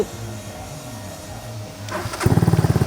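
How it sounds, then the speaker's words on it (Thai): A 250cc Gen7 minibuggy engine cranks briefly on its push-button starter, then catches and settles into a steady, loud, pulsing idle close by. "สตาร์ทติดเรียบร้อยนะครับผม"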